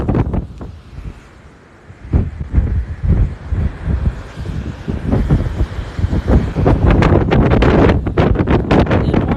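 Heavy sea wind on Tybee Island buffets the microphone in loud, low rumbling gusts that build and stay strong; no clear voice cuts through.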